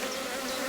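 Honeybees in a Rose hive colony give off a dense, steady buzz, close and continuous throughout the brief moment with no other sounds.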